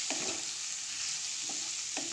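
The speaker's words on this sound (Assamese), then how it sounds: "এইখিনি ভালকে মিহলাই লাহে লাহে মই ভাজি লম" Ground meat masala, turmeric and other spice powders stirred and slowly fried in a hot pan for an Assamese pork dish, a steady sizzle with a few soft scrapes of the spoon, close and alone.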